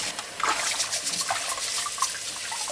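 Running water splashes and gushes steadily as pig's trotters for Korean braised jokbal are washed and scrubbed with a brush under a tap, a continuous close rush with small bursts of splashing.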